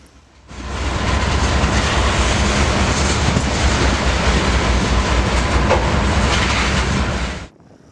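A short local freight train rolls past in Galesburg, Illinois, a loud, steady roar of wheels with faint clickety-clack that swells in quickly, holds for several seconds and then cuts off.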